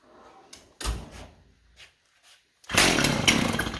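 A Stihl MS290 chainsaw with a freshly cleaned carburetor, which seems starved for fuel: a few sharp recoil pulls and clunks, then the engine catches and runs loud and rough up close.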